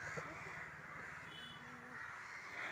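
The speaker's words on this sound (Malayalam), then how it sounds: "കാക്കകൾ തെങ്ങിൻ്റെ മുകളിലും മരങ്ങളുടെ മുകളിലൊക്കെ കൂട്ടമായിട്ട് ഇവരെന്തിനാണ് ഇങ്ങനെ ബഹളം വെച്ചിട്ട് പറക്കണമെന്ന്" A flock of crows caws over coconut palms and trees outdoors, their harsh repeated calls fairly distant and overlapping against a steady background hiss, with no clear voices.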